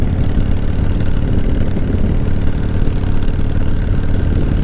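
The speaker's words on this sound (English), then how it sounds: "out on the 88 Softail Custom, giving it a little exercise." A 1988 Harley-Davidson Softail Custom motorcycle runs on a hot late-summer ride, its engine a loud, steady low rumble mixed with wind noise throughout.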